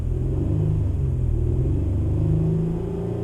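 Car launching from a standstill with the clutch slipped at about 3000 rpm, a steady loud engine rumble with low drone and a slight rise in revs, close by with no voices.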